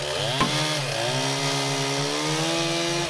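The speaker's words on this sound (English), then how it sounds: "we use chainsaws and knives" A chainsaw engine runs steadily at high revs, its pitch sliding down and then climbing slightly as it works through a cut, close and loud with no talking.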